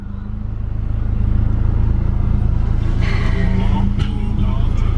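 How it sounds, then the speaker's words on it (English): Exhaust of a Nissan 180SX heard from inside while driving: a loud, steady low drone that builds slightly and holds, with faint rattles on top. "because I think the exhaust sounds really good"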